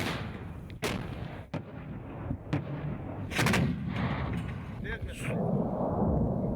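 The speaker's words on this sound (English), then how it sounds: "Thick smoke engulfed the Syrian city as a barrage of rockets hit on Saturday." Rockets pound the Syrian city of Aleppo during fighting, heard as sharp, irregular blasts and thuds over a rumbling, noisy background.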